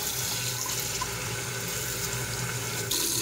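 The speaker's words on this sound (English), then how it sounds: "I'm going to fill this up with water." Tap water runs steadily into a container at a sink, a constant close rushing splash from start to finish.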